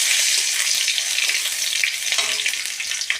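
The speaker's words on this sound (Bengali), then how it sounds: "দিয়ে ভালো করে রসুনটা ভেজে নেব।" Garlic, dried red chilli and mustard seeds sizzle and spit in hot oil, a dense, steady frying crackle heard close up with no voices.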